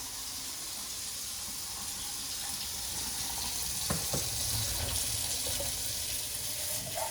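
An empty food can is rinsed under a running kitchen tap, with steady water hiss and a few clanks and splashes as the can is handled.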